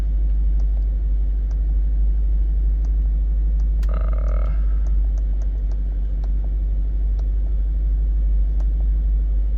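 A 2012 Jeep Grand Cherokee SRT-8 engine idling steadily after a cold start, a deep constant rumble heard close, with light ticking and one brief chirp over it.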